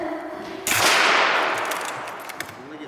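A biathlon rifle fires once at a target, a sharp, loud crack followed by a decaying ring and faint clatter, with a brief voice afterward.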